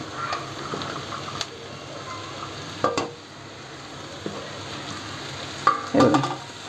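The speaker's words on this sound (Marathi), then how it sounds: "हां, तर आता मी भेंडी आणि कोकम एकदमच घालते." Okra and kokum tossed into a pan with onion, stir-frying with a low, continuous sizzle and a few sharp clatters and scrapes of a spatula against the pan.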